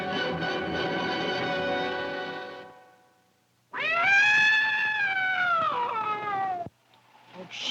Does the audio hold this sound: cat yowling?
yes